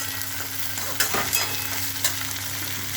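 Chopped tomato hits onions already frying in a hot pan, giving a steady close sizzle with scraping stirring strokes throughout, a few louder clatters along the way and no voices.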